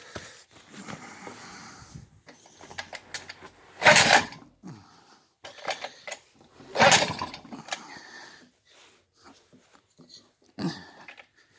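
MBK 51 moped with AV10 engine being started: mechanical clicking and ratcheting from the starting mechanism, broken by two loud, brief bursts of noise, then quieter rattling, close by with no talk.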